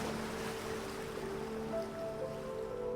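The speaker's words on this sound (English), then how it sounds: "The breeze strong, blowing up tall waves that crash onto the shore." A constant roar of strong surf on a stormy beach, with tall waves crashing onto the shore as a steady wash of noise heard alone.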